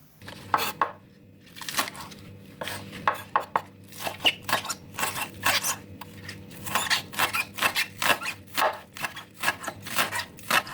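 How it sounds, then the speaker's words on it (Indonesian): A knife chops spring onions on a board in quick, uneven bursts of sharp taps, close and fairly loud, with no talking. "Dua batang daun bawang, kemudian dipotong-potong kecil."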